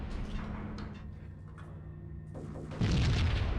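Weapon fire in the PC game Max Payne on an LGA775 Windows Me machine, with low thudding shots and a booming blast at the end over a steady rumbling game backdrop, no talking.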